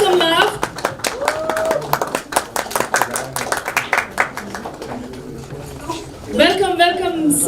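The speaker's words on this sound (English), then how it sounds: "Everyone, put your hands together for Sunny Leone. You can still keep clapping." Crowd clapping at a live event welcoming actress Sunny Leone, scattered sharp claps under a loud host's voice, with a brief shout near the end.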